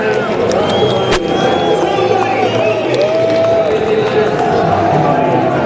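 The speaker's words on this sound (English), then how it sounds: "gets a big cheer from the crowd" A large crowd cheers steadily at Fenway Park as the Red Sox celebrate winning the 2013 American League Championship. Whistles and scattered shouts rise over the loud, continuous roar.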